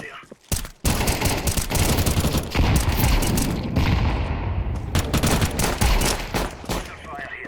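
Continuous video game gunfire during a bomb-carrier round, with dense rapid bursts of shots and booms close and loud for several seconds after a brief opening gap, with a voice calling out briefly.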